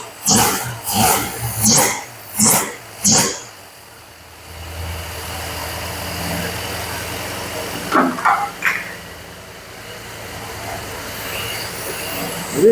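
A car engine revs at half throttle while warming up, with four sharp, evenly spaced revs that rise and fall. It then settles into a steady idle, and a couple of quicker blips follow near the end.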